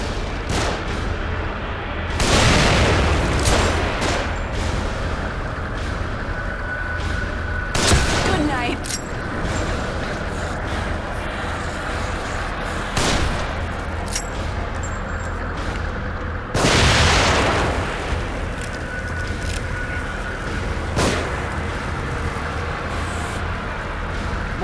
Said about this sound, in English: Shooting from above.